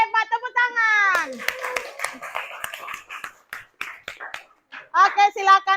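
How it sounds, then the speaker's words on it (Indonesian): Children in a classroom clap together in a short burst between stretches of a teacher and young pupils speaking, the claps sharp and close over the voices. "Tepuk tangan"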